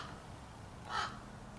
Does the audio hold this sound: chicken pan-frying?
no